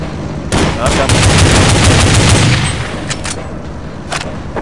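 Rapid bursts of gunfire from the Counter-Strike game on the Oilrig map, loud and close, with a dense volley of overlapping shots followed by a few sharper isolated cracks as the exchange tapers off.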